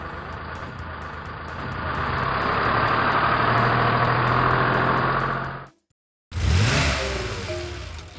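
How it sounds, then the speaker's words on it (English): A tow truck engine runs and revs steadily with a rhythmic clatter, cuts out abruptly to silence, then roars back up. "Tow truck."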